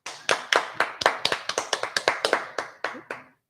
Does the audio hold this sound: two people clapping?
yes